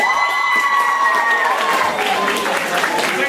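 Applause from a theater crowd after a performance of Hamlet, clapping and some cheering, dense and steady throughout, with a few voices shouting over it.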